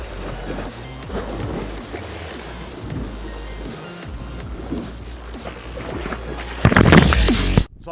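An ocean wave breaks on a rock stack along the rocky shore of a cruise ship's private island. A constant rumbling surf builds to one loud, close splash near the end.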